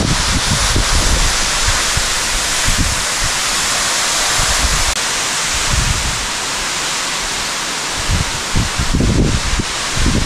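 A waterfall roars inside a deep river cave, a dense, steady rush of falling water filling the space, loud and unbroken for the whole stretch, with no voices over it.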